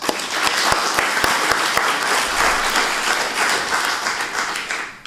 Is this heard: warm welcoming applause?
yes